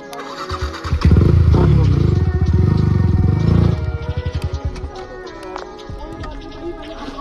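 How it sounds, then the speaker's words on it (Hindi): A motorcycle that has just crashed is cranked repeatedly but won't catch, a loud rough churning burst that gives way to rapid sputtering pulses. Excited voices talk over it outdoors. "ओ बाइक स्टार्ट नहीं हो रही यार"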